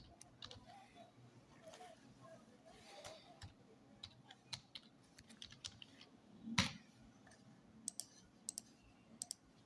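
Typing on a computer keyboard during a software tutorial, with scattered soft key clicks and a few sharper taps spread irregularly over a quiet background.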